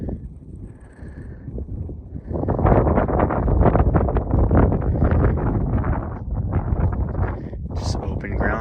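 Strong, cold wind buffets the microphone across open ranch ground, a loud, continuous roar that rises sharply after a quieter start and stays heavy throughout.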